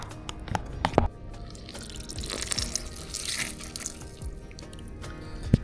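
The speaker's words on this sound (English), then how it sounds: "Now to be squeezing some lemon juice all up in the mix." Lemon juice squeezed by hand over shrimp for ceviche, a wet dribbling and dripping of liquid with a few sharper squelchy bursts near the start, close up and moderately quiet, no voices.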